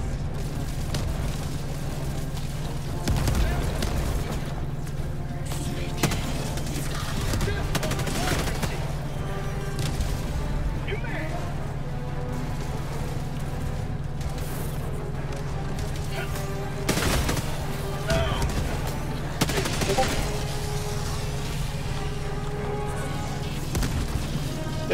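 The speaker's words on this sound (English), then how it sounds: "They're just like basically shooting at me and blowing up the mines by hitting them" Bots fire at the player and set off mines in the shooter game Helldivers 2: nonstop bursts of gunfire and repeated booming explosions over a continuous low battle rumble.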